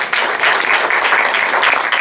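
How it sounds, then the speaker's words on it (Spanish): A conference audience claps steadily, a dense wash of many hands that holds at an even, loud level from start to finish. "Okay, un fuerte aplauso."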